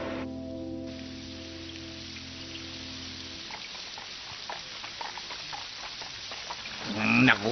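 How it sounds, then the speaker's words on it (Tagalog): In an animated cartoon dubbed into Tagalog, rain drips through a leaking roof as light, scattered taps that follow a fading musical chord, ending in a louder splash. "Kung umuulan lang naman tumutulong bubong eh."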